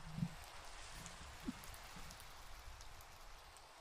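Rain falls in the Minecraft video game as a soft, steady hiss that stays faint and even throughout, broken by a couple of brief low thumps and with no voices.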